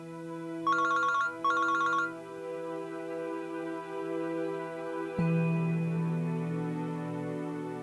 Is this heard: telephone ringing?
yes